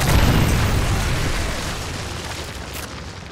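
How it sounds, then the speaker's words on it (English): A predator missile blast in Modern Warfare 3, a loud, dense rumbling explosion that starts at full force and slowly tapers off over a few seconds. "Predator missile inbound."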